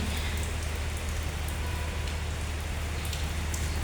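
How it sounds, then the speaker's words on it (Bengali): Heavy rain pours down in a dense, steady roar, with a constant low rumble and splashing on surfaces, loud and close with no break. "বৃষ্টি দেখাচ্ছে আপনাদের কি ভয়ানক বৃষ্টি হচ্ছে"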